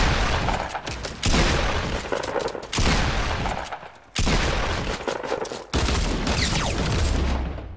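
Bursts of gunfire in the battle game Fortnite during a duos match, loud repeated volleys separated by short pauses, with sharp reports and booming impacts filling the mix and no talk.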